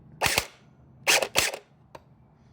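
An MP5 V2 airsoft gun fires a few sharp, close snaps, two in quick succession, then a pair a moment later and a faint click after, all without talk.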